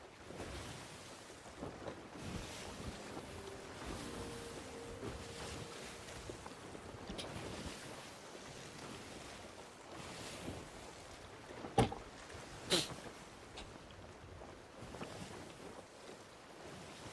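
Wind and ocean waves wash around a sailing ship on open water in the Sea of Thieves video game, a steady airy roar with lapping surf and a couple of brief sharp clicks near the end, no voices.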